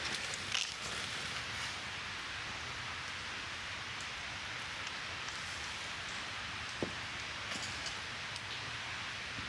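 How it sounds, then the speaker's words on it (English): Heavy rain at a wild camp pours down in a dense, constant hiss, with a few drops knocking nearby. There is no talking. "The rain has come in really quite heavy"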